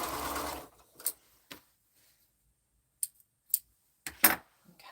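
A sewing machine stitching quilt fabric, a short whirring run at the start followed by quiet gaps and a few separate clicks and brief mechanical bursts as the work is stopped and pivoted, close and soft.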